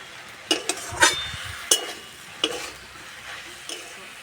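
Jute greens frying with chili powder crackle softly in a pan while a metal spatula scrapes and clinks against it in several quick, close stirring strokes.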